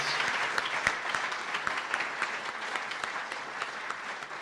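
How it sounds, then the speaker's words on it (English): A crowd applauds at a student news awards ceremony: dense, steady clapping from many hands that holds at an even level for the whole span, with no talk over it. "Can we get a round of applause for everybody, award winners, nominees?"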